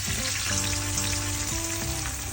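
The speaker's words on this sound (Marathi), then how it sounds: "आधी तूप टाकायचं आहे आपल्याला." Ghee sizzles loudly in a hot wok, a continuous close crackling hiss with a faint tonal hum underneath and no voices.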